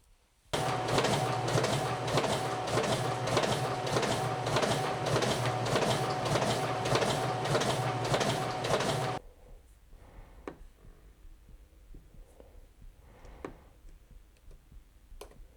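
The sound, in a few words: Risograph printer running to drain an orange ink drum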